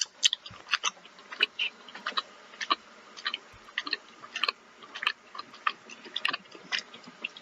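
A comic chewing sound effect called Charles Chewing plays up close, with wet, smacking chews falling in an uneven rapid rhythm.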